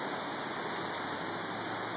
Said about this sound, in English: We're in the Weir Valley River.